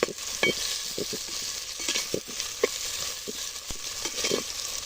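A single tomato fries in a hot pan, a steady sizzle broken by irregular scraping knocks of a utensil stirring it, close and moderately loud.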